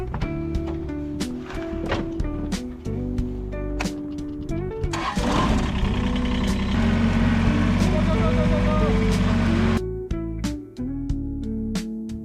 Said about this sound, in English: We're going to dig the foundation now. That blue spray paint mark, we're using a little Kubota tractor